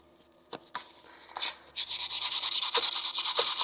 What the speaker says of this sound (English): Let's see, with wet sanding.